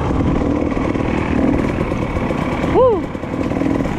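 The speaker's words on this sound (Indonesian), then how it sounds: "Rasanya main motor panas-panasan di jalur." An enduro motorcycle's engine drones steadily on a dirt trail, close and loud, with a brief rising-and-falling whine near the end as the rider works the throttle.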